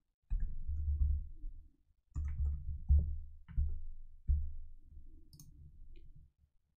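Someone types on a computer keyboard, with quiet, irregular clusters of close key clicks and soft thumps in a short run of strokes.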